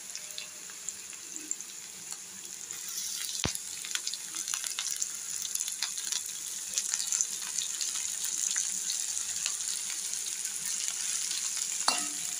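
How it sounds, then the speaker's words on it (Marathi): Onion frying in oil for red amaranth curry, giving a steady, faint, hissing sizzle with occasional stirring taps, close and continuous throughout. "लाल माठाची भाजी करण्यासाठी आता तेल घेतलेलं आहे। यात कांदा घालूया"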